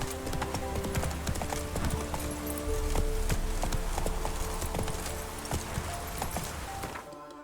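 Roach, a horse in The Witcher 3 video game, moves along with a fast, steady clip-clop of hooves. The rhythmic hoofbeats are close and loud and continue throughout, then stop abruptly near the end.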